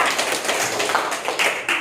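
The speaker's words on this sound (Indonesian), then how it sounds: "Tepuk tangan lagi sekali kelompok 2" Applause in a classroom for a student group after their presentation, a brief burst of dense clapping from many hands close by, steady for just under two seconds.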